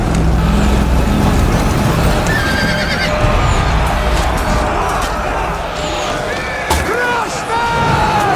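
Horses whinny and neigh repeatedly over a dense battle din of hoofbeats and clashing as mounted Norman cavalry charge the Saxon line at Hastings in 1066, in a large-scale battle simulation game; loud and continuous throughout.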